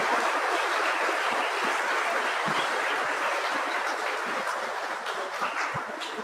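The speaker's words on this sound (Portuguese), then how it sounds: "A elas uma salva de palmas." A church congregation at Mass breaks into sustained applause for new altar servers, a thick, even wash of clapping that eases slightly toward the end, with no talking.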